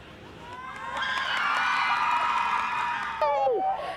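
Girls on a special needs cheerleading team, the South Jersey Storm Twisters, erupt in loud, sustained screaming and cheering at news of a championship berth, a crowd of high excited voices swelling and holding, then a few sharp whoops near the end.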